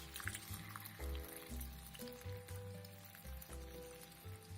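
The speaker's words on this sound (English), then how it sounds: "So I'm gonna pour the water from the vegetables." Hot water being poured off boiled vegetables in a home kitchen, a faint steady trickling and splashing under low background music, with no talk.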